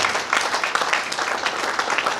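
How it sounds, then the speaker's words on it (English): Conference audience at the South East Human Capital Development Conference in Anambra State breaks into applause, dense and steady clapping filling the room for a couple of seconds. "And I think the Southeast deserves a round of applause."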